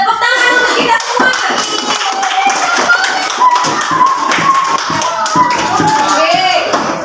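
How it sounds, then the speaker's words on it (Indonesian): A second-grade class claps hands together in a classroom, a dense burst of many small hands clapping steadily for several seconds while children's voices mix in. "Oke, tepuk tangan untuk kita semua."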